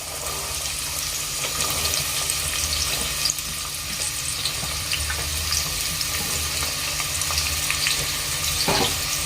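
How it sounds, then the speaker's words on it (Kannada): Chopped onions frying in oil over high flame for soya matar pulao, a steady broadband sizzle with occasional crackles, close and continuous with no voices. "ಹೈ ಫ್ಲೇಮ್ ಒಳಗೆ ಒಂದ್ ಸ್ವಲ್ಪ ಕೆಂಪಗಾಗಬೇಕು ನೋಡ್ರಿ ಉಳ್ಳಾಗಡ್ಡಿ ಆ ತರ ಫ್ರೈ ಮಾಡ್ಕೊಳ್ಳೋಣ್ರಿ"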